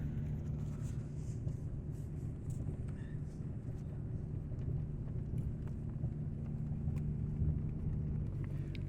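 Car cruising slowly around a snowy subdivision after a polar vortex storm: a steady low engine and road rumble heard from inside the cabin, continuous and even throughout, with occasional faint voices.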